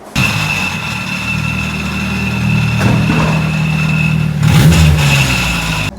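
A turbocharged K24-swapped Nissan A31 Cefiro roars steadily on a dyno, with a sustained loud engine drone, a high whine overhead and a brief surge near the end.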